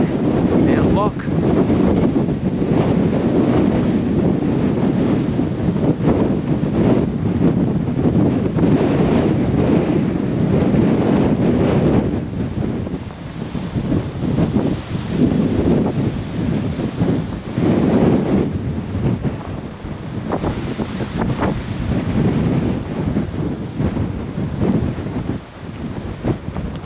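Strong wind buffets the microphone on an exposed alpine mountainside, a loud continuous roar with gusting surges that ease slightly midway before building again.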